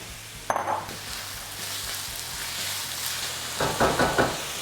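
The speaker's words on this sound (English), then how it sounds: "Everybody knows that's the sound exactly what you want to hear. We call that the sizzle." Hot oil crackles and hisses steadily, with a louder burst of sizzling near the end as onions hit the pan.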